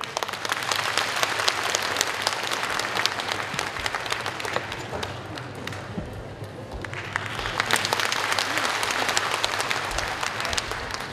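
Sustained applause from a concert audience in a hall welcomes conductor Wu Tao ahead of a Henan Symphony Orchestra performance at a masterclass concert in Ma'anshan, a dense, steady wash of many hands lasting throughout, dipping briefly before swelling again.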